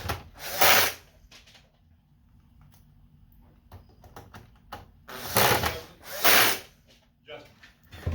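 Screws being driven back into a PS5 console during an HDMI port repair: three short, whirring bursts of a driver with faint clicks and handling noise between them, close up.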